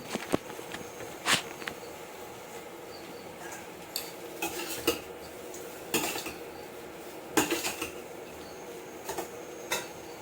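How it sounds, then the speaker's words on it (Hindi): Dough stirred and kneaded with metal utensils in a home kitchen: irregular clinks, scrapes and taps of spoon against bowl, spread over about ten seconds at moderate volume, with occasional sharper clatters. "चलो आटा लगाते हैं। इसे बार बार चलाना पड़ेगा।"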